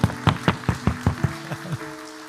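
A church congregation applauding during a Sunday worship service, a quick burst of uneven claps that thins out and fades within a couple of seconds, with no talk over it.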